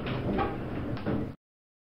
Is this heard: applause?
no